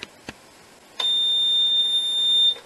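A Nugelec autonomous sound alarm unit in a fire alarm system sounds one loud, steady electronic tone lasting about a second and a half, preceded by a couple of soft clicks.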